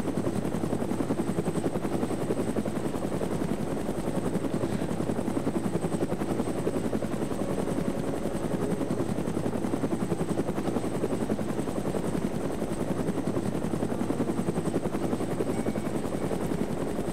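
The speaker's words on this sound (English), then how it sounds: "I'm laying in the hangar with the helicopter." A helicopter in the video game ArmA 3 sits in a steady, dense rotor and engine drone that runs unbroken and fairly loud throughout, with no talking over it.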